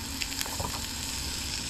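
A steak sizzling and frying in a small pan at an outdoor riverside stop, with a steady, close, even crackle and a few brief pops.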